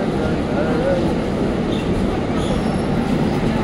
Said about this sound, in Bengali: এই হচ্ছে ট্রেন।